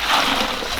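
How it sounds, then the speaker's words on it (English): A burst of splashing and sloshing as Alaskan razor clams are dropped into a bucket of ice water, close and fairly loud, steady through the short moment with no voices. "put them right in the ice water"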